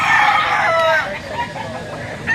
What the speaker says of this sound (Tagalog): Pero magandang manok.